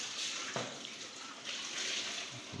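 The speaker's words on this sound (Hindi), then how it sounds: "गीजर लगा हुआ है और गरम पानी के साथ धोए जा रहे हैं बर्तन" Hot water from a geyser-fed tap runs steadily while dishes are washed in a home kitchen, a faint, continuous splashing wash with no talk.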